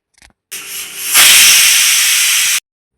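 A pressure cooker cooking moong dal releases steam in a loud continuous hiss, rising sharply after a brief start and holding steady for about two seconds before cutting off abruptly.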